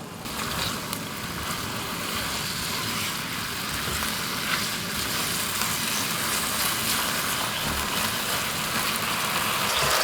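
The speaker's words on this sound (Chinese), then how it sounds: "加入调好的料汁儿， 开大火翻炒。" Shredded meat and vegetables stir-fry over high heat in a wok with a sauce mixture for pocket bread filling, a loud continuous hiss and crackle with faint rhythmic tossing, steady and close.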